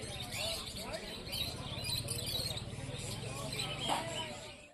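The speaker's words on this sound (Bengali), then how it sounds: "এবার আমি তোমাদের পাখি দেখাচ্ছি বিন্ডকর মার্কেটে যে সব রকমের পাখি পাওয়া যায়" Caged birds at the Birnagar animal and bird market chirping in a busy, overlapping chatter, mixed with crowd voices and general market hubbub.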